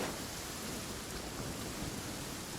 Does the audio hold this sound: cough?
no